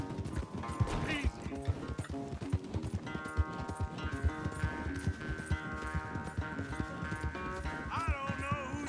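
Hooves of a horse in Red Dead Redemption 2 clip-clop in a quick, steady galloping rhythm, running continuously beneath a layer of music.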